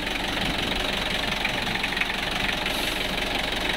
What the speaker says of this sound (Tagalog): Tahimik pang umandar yung ating makina.